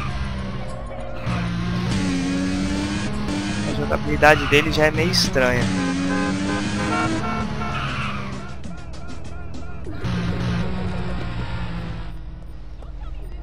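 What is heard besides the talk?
hamburger car driving in the video game GTA San Andreas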